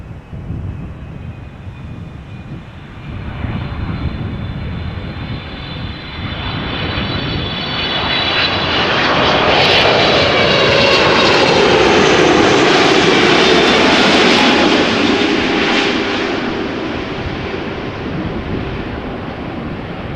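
A Boeing 777-300ER airliner roars overhead while landing at Amsterdam Schiphol Airport, its engine noise swelling to a loud, rushing peak with a sweeping whine, then slowly easing off, with wind buffeting.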